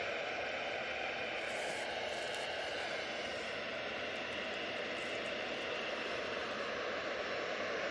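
An easyJet airliner at Manchester Airport gives a steady, fairly quiet engine roar that holds evenly from start to finish, with no voices.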